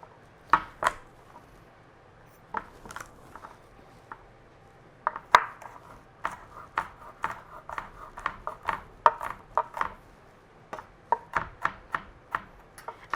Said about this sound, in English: I'm going to take a few cloves off of our garlic. We're just going to give this a rough chop.